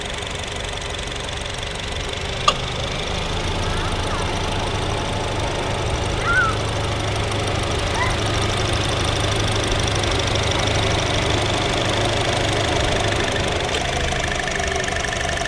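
A 2018 Honda Jazz RS CVT with a dry, clean, well-kept engine idles smoothly, a steady low mechanical hum and light ticking heard close up without talk, with one sharp click partway through.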